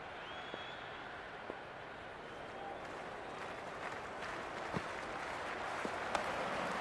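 A large stadium crowd at an Australia versus South Africa T20 World Cup cricket match roars and applauds continuously, a dense steady wash of cheering with occasional sharper claps and shouts rising above it.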